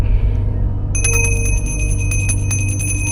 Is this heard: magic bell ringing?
yes